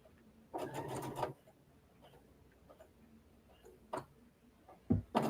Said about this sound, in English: I can start sewing and I can watch